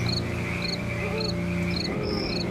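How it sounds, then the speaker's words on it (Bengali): Crickets chirp at night along a deserted village road, a steady chorus of short, high pulsed trills repeating over a constant droning insect and frog background. "শুধু ঝিঝি পোকার শব্দ।"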